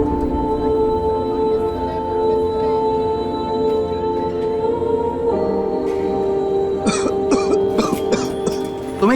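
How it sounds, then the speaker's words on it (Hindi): Several sharp coughing bursts arrive near the end of the clip, close and abrupt, after a long stretch of steady tonal background music that continues underneath them. "यूं खांसते खांसते काम पर मत आया करो।"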